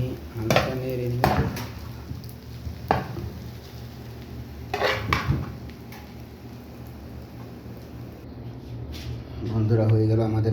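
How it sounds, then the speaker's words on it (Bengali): Eggs being stirred into noodles in a pan produce a few loud clanks and scrapes of a utensil, with quieter cooking noise between them and a voice speaking at times. "ডিম দিয়ে হালকা নেড়ে নিই"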